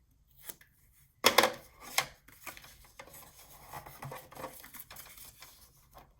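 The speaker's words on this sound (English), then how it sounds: "Let me go ahead and just snip that." Scissors snip through paper while a fall-themed flipbook album is assembled, a few quick close cuts with a sharp burst near the start followed by softer rustling.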